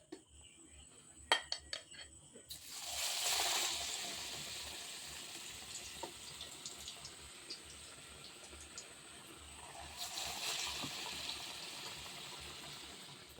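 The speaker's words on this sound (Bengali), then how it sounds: "এটা এই কাটলেটগুলি ভাজার জন্য কড়াতে তেল বসিয়ে দিয়েছি। তেলটা গরম হয়ে গেছে।" Batter-dipped paneer cutlets go into hot oil in a kadai, bursting into loud hissing sizzles twice, with utensil clinks and a quieter bubbling fry in between.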